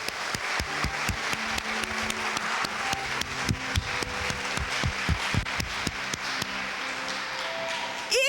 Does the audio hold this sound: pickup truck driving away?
no